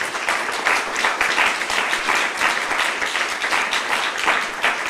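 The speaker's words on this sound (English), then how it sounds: "Please give a large round of applause for our panelists." A panel discussion audience breaks into full, continuous applause for the panelists, steady and fairly loud from start to finish.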